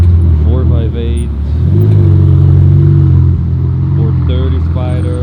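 Several Ferraris at a large gathering in Aarberg rev their engines loudly, one after another. Between the bursts the engines settle into a sustained roaring drone, and the sound stays close and powerful.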